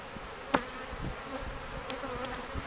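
A swarm of agitated honeybees drones continuously around an open hive during super rotation, with a sharp click near the start and faint knocks scattered through the steady buzz.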